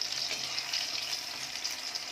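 Chicken pieces fry in hot oil in a pan, giving a soft, even sizzle that carries on without a break; no voices.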